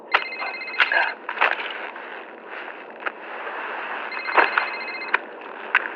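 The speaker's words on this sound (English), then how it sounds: "Oh, it's the burner phone." A burner phone rings in a TV drama scene, giving repeated bursts of electronic ringtone pulses separated by short gaps over a steady background hum; a few faint sounds occur between rings.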